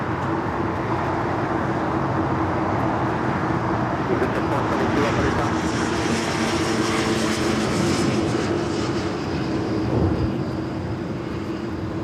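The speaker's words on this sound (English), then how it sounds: "That's Asiana on flight 204 there in the background, the A350." An Asiana Airbus A350 airliner at LAX makes a steady jet engine rumble in the background, with a faint whine above it and a broad surge near the end; a voice talks over parts of it.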